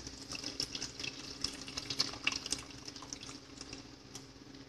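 Tamarind water poured into a pot of fish curry (kili meen kulambu), a soft, steady liquid trickle and splash heard close and fairly quiet, with no talking.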